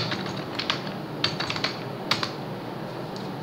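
Fingers tap out a short run of keystrokes on a computer keyboard, quick uneven clicks heard up close over a faint steady hiss.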